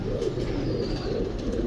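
Lakha pigeons cooing close by, a continuous low rolling coo repeating in soft waves.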